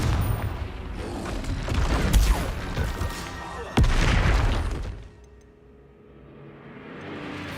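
Confringo blasting spells bursting in combat in Hogwarts Legacy, a dense run of loud booms and crackling impacts with one sharp crack near the middle, then a quieter rumbling tail.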